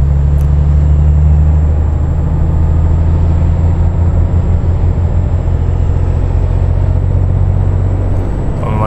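A heavy truck in Euro Truck Simulator 2 pulling away and gathering speed, its deep low engine drone steady and loud throughout, with a brief shift in pitch near the end.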